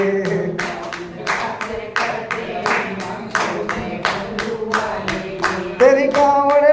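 Devotees at a Shiv Mahapuran katha clap in a steady, loud rhythmic beat, many hands together, with singing voices running underneath throughout.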